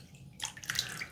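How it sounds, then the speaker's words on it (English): Water splashed onto the face for a cold water shave, a few quick soft splashes and drips at a sink, close and fairly quiet with no talk. "Let's wet the face here."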